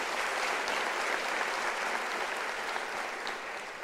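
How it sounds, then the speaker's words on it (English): Sustained applause from a large audience at a university academic-year opening ceremony, steady and dense clapping throughout with no voices standing out. "So can you give him a round of applause?"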